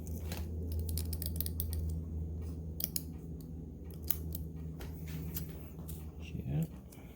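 Cutters snip through a shielded servo power cable with a series of sharp, close clicks and crunches, over a steady low hum.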